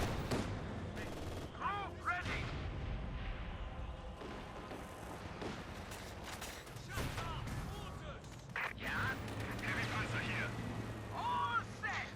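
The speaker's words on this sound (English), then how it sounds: "More Panzerwerfer fire here." Panzerwerfer rocket artillery firing in a Company of Heroes 2 2v2 match, a dense battle soundscape of repeated bursts and thumps under steady talk.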